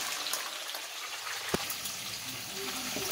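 Pork browns in a hot pan with a steady, close sizzle and crackle, a sharp metallic clink partway through, and no talking.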